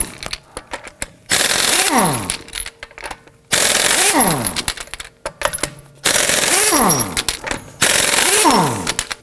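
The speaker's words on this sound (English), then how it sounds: "Using a 21mm socket, let's loosen and remove our lug nuts." Three loud bursts of impact-wrench hammering break 21mm lug nuts loose from a Toyota Camry wheel, each rattling burst lasting about two seconds with quieter gaps and clinks between.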